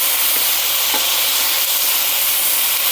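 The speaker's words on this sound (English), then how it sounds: "I'm here stirring it." Callaloo sizzling and frying in a pot while being stirred, a steady loud hiss with faint scraping, no voices.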